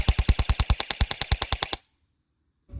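An EMG Helios airsoft rifle fires a rapid burst of about sixteen evenly spaced, sharp mechanical shots up close, then stops into near silence.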